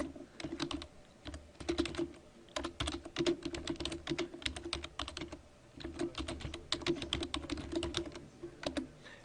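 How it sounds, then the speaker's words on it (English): Steady, rapid typing on a computer keyboard, close and clear, with bursts of keystrokes and brief pauses while entering a subtitle into a PowerPoint 2010 slide; no voice. "And then I'm going to go ahead and type some information down here for the subtitle."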